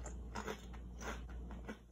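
Several soft, close crunches of ketchup-flavored Doritos chips being bitten and chewed in a quiet room.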